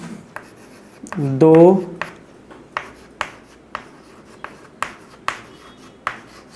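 A teacher writes on a classroom board, making a steady series of short scratchy strokes after a brief spoken word and a squeaky mark.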